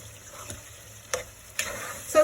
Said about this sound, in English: So now I'm going to put in my tomato. I'm going to mix that in.